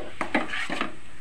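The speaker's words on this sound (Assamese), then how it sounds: "এতিয়া মই অলপ ভাজি লওঁ" Coconut-carrot laddu mix is stirred in a pan: a few quick spoon scrapes and clinks against the metal, close and fairly quiet, with no voices.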